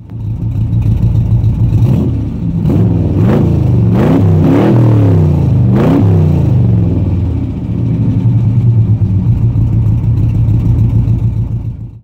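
A 1972 Chevrolet Corvette V8 revs hard several times in quick succession, each blip rising and falling over a steady loud idle, close by and with no talk.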